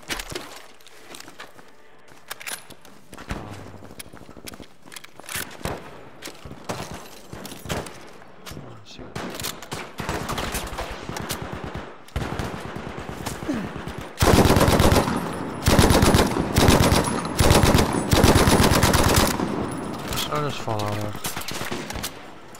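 Rapid bursts of automatic and single-shot gunfire in the Battlefield 5 Firestorm battle royale mode, with footsteps between volleys, building to loud, dense sustained firing near the end.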